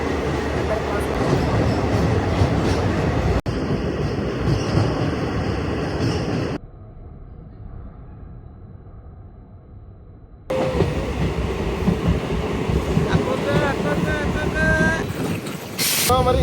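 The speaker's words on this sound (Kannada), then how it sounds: "ಇದು ಅಂಡರ್ ಪಾಸ್ನಲ್ಲಿ ಹೋಗ್ತಿದೆ ಟ್ರೈನು" Train rolling through a railway underpass in a village area, heard from on board as a loud, steady rumble of wheels and carriage noise, dropping briefly to a muffled hum in the middle before surging back, with wind buffeting the microphone.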